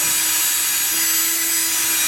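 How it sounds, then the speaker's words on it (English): A drill boring a pilot hole into particle board while building a simple drawer, a close, loud, steady high whine with grinding texture and a constant motor tone, no speech. "because this is particle board, is I like to drill a pilot hole just to be sure that this follows"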